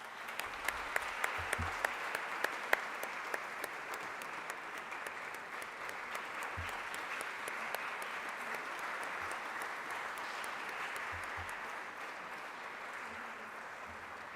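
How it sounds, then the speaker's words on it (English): Steady audience applause at a semiconductor conference felicitation ceremony, a dense even patter of many hands lasting throughout, with a few sharper individual claps near the start. "Can we have a round of applause, please?"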